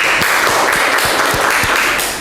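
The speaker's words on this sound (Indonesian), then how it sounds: "Ayo tepuk tangan." Classroom of students clapping for a group presentation, a steady broadband patter of many hands with a few sharper individual claps, sustained evenly throughout and tapering slightly at the end.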